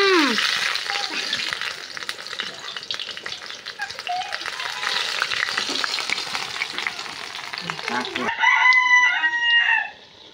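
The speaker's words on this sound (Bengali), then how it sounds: "টমেটো দুইটা ভাজলাম।" Two tomatoes fry in a pan in a Bangladeshi village-style kitchen, hissing and sizzling with stirring scrapes, before a rooster crows loudly nearby at the end.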